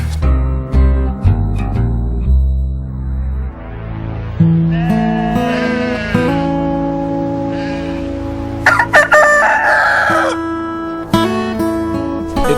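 A rooster crows loudly and close by, several long drawn-out calls overlapping among clucking chickens on a smallholding farm, with clucks and short squawks filling the gaps.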